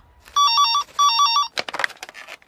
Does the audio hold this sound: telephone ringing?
yes